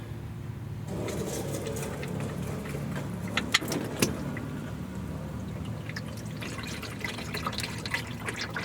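Engine oil draining from the drain plug of a Volvo XC during an oil change, a steady pouring, trickling rush with a few faint metallic clinks, continuous throughout.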